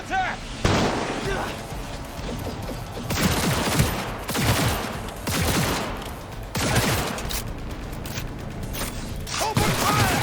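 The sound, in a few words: gunfire in the video game Cyberpunk 2077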